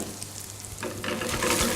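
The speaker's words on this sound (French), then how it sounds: "quand notre beurre a presque fini de crépiter, on met nos girolles" Chanterelle mushrooms drop into hot, nearly settled butter, and a bright crackling sizzle surges up, loud and close, lasting a couple of seconds with no talk over it.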